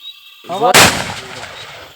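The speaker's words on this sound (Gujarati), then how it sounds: "તમે જોવો આ બોમ્બ ફોડે જોવો તમે" A sudden loud firecracker blast after a brief fizzing fuse, followed by a short fading rumble and faint echo.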